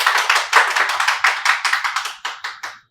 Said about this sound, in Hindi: एक बार ऑडियंस से दरख्वास्त करूंगी हमारे अतिथियों का तालियों के साथ स्वागत करें।